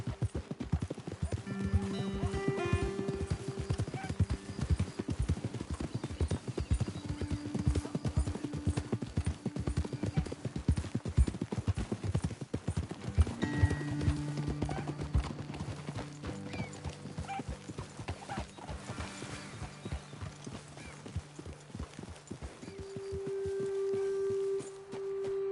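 Horses in Red Dead Redemption 2 clip-clop at a rapid gallop, a dense continuous hoofbeat rhythm with occasional whinnies and snorts, over soft game music.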